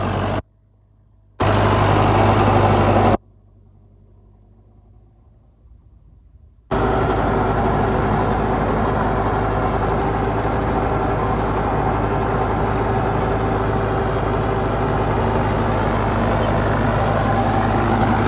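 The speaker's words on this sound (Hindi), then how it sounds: "अभी इंजन भी बिल्कुल नहीं दब रहा ट्रैक्टर का" A Mahindra Arjun Novo 605 tractor engine labours under load while working soil, a loud, steady, low diesel drone heard up close, broken early by brief dropouts before settling into a continuous roar with no talk.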